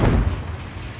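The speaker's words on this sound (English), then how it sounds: "Stun grenade out." A stun grenade detonating in the Modern Warfare 3 video game, a loud, low, rumbling boom that fills the short moment and stays heavy without a sharp decay.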